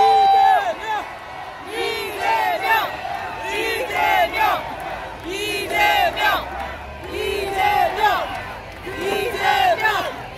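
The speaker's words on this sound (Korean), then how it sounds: "그 함성과 박수 이재명 대표에게 힘을 주시기 바랍니다" A large crowd at a Democratic Party rally protesting the Fukushima contaminated-water release shouts in loud, rhythmic waves of massed voices, rising and falling in repeated chant-like bursts across the whole stretch.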